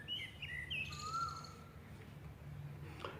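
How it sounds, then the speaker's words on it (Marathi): Several birds chirp and call noisily at dusk in quick, overlapping bursts against a low background hum, moderately distant and lively. "सर्व पक्ष्यांचा आता कल्ला सुरू होतो"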